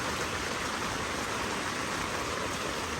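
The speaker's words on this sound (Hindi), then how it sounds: "तेज़ बारिश शुरू हो गई है।" Heavy rain pours down steadily on a campsite in New Zealand, a constant dense hiss close by with no let-up and no voices.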